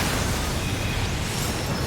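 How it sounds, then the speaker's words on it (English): A game explosion in Final Fantasy XIV rumbles as a dense, sustained low roar filling the whole stretch at steady loudness, with no voices over it. "wait for that explosion"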